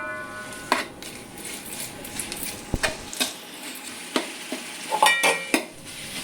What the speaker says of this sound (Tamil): இப்போ நறுக்கி வச்ச ஒரு கிலோ இரநூறு கிராம் தக்காளி பழத்தையும் இதோடு சேர்த்து நல்லா கிண்டி விட்டுக்கிட்டே இருக்கணும்